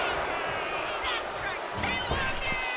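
Wrestling arena crowd in WWE 2K25 cheering as Michelle McCool fires them up: a steady, dense roar with a few brief swells, continuous throughout.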